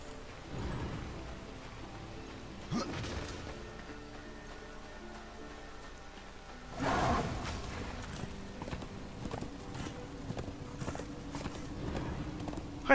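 Horse hooves clip-clopping steadily while riding across open ground in the video game Darksiders 2. The hoofbeats stay continuous at moderate volume under ambient game sounds, with one louder rumbling swell partway through.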